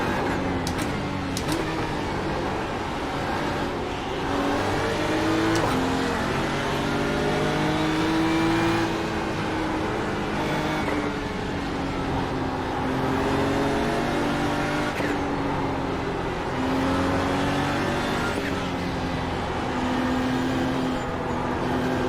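Porsche race car engine in iRacing at Suzuka during a ten-hour endurance race, a continuous loud in-car engine drone with rising and falling revs through gear changes and corners, no talk.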